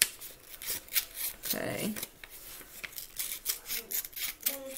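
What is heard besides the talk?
scissors cutting paper for rolled roses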